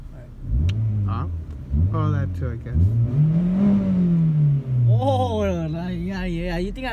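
A Lamborghini's engine revs while driving, its pitch sweeping up and down in several rising and falling surges, loud and close throughout.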